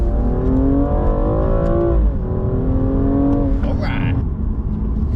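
A BMW M235i in sports mode blips its engine on a downshift, the loud close-up revs rising and falling in smooth sweeps, with a brief dip and a second climb inside the cabin.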